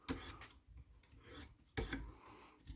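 Single sharpening strokes drawn along each side of a knife blade, giving two loud rasping swipes separated by quieter scraping, close and alone.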